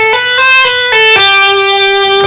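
Electric guitar pull-off licks strung together in a quick run of plucked, sustained notes, loud and close, each attack ringing into the next with no talking.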